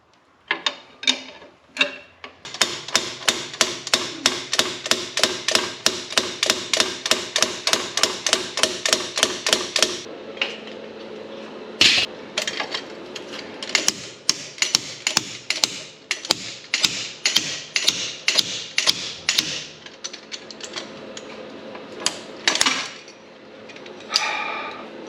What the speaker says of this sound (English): I've got the bearing puller set up onto the pilot bearing, so we'll just try and pull this bearing out now.